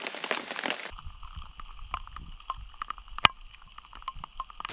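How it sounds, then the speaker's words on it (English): Heavy rain falls on a tarp shelter at a remote riverside kayak campsite. It opens with a short rush of downpour, then settles into faint, scattered drips and patter nearby. "It's absolutely pissing down now"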